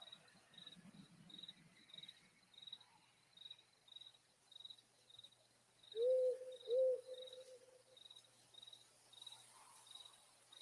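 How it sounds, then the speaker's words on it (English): An owl hoots twice as ambient night sound, two clear mid-pitched calls near the middle, set against a steady, rhythmic chirping of crickets throughout, quiet and distant-sounding with no talking. "Like the little ambient sound of"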